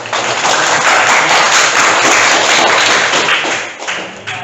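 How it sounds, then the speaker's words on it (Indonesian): Applause fills a classroom as students clap for a group that has just presented at the front, a dense, steady patter of many hands that stays loud before tapering off near the end. "Kita kasih tepuk tangan atas penampilan di depan kelasnya."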